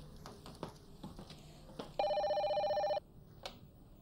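A telephone rings once with a bright electronic trill lasting about a second, standing out against faint background clatter and shuffling in an indoor scene.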